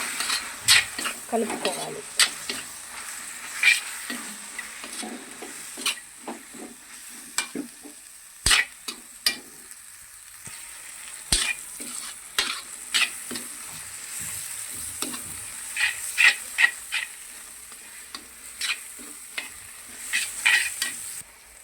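Gongura and dried prawn pickle mixture with homemade garam masala and fenugreek powder stirred in a pan, with repeated scrapes and occasional sharp utensil clinks over a soft sizzle, close and continuous without talk.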